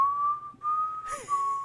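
A person whistles a steady, clear melody, holding long sustained notes with a brief dip and a short breathy flourish near the end, fairly close and alone.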